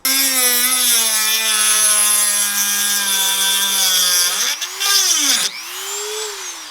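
A power tool cuts a notch into a metal Lambo door bracket on a Nissan S14 240SX, a loud steady whine with harmonic bands that dips and rises as the load changes near the end.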